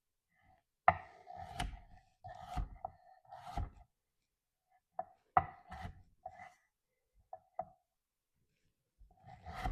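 A kitchen knife slices a sweet potato into wedges on a cutting board, giving sharp, distinct thunks and chops in irregular clusters with quiet pauses between, close and clear with no talking.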